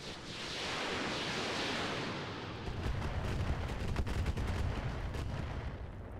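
Mech weapons firing in the Roguetech battle game: a long, loud, roaring barrage with broadband rumble, building and then holding with rapid impacts layered through it, no speech.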